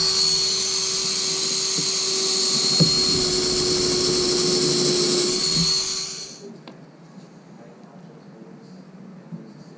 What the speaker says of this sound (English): doing some presets with the drill bit and then sinking in some screws to hold it in